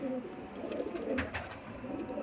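Rampuri pigeons coo in low, soft murmurs against a gentle ambient background, a few calls overlapping.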